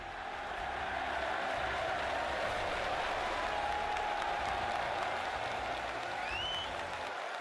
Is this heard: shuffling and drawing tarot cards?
no